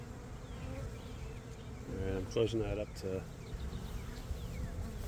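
A honey bee swarm hums steadily around a hive, a dense close buzz throughout while someone speaks briefly over it in the middle.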